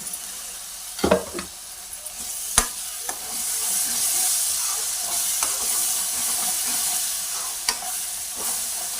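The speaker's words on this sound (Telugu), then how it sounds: "ఇంట్లో ఉన్న నీరంతా పోయేదాకా ఫ్రై చేసుకోవాలి." Tomato and cashew paste frying in oil with onion, ginger and garlic: a steady close sizzle and hiss runs throughout, broken by occasional sharp spoon scrapes and clinks against the pan.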